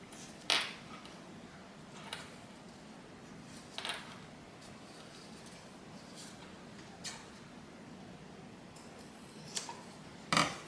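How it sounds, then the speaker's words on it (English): Scissors snip off excess bag material while sewing a bag, a few sharp isolated clicks spread out over a quiet background, close but faint. "I'm just going to cut off the excess here."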